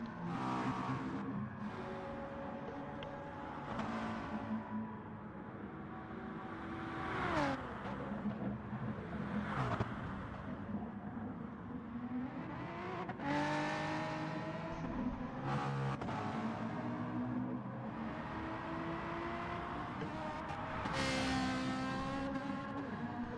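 Race cars in a video game lap the Red Bull Ring, their engines whining and rising and falling in pitch as they accelerate, shift and pass through the corners, with several cars overlapping in a continuous roar.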